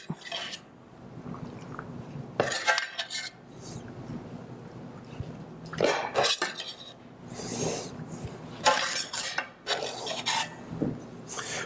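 A utensil scrapes and rubs against a baking dish while seasoned meat is spooned into a layered lasagna, giving repeated raspy scrapes and light clinks in several close bursts, with no talking.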